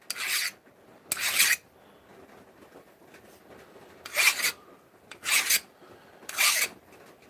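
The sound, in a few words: filing hard steel with a file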